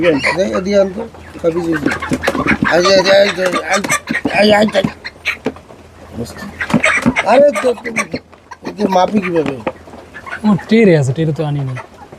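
Broiler chickens clucking and cooing throughout, mixed with someone talking steadily over them at close range.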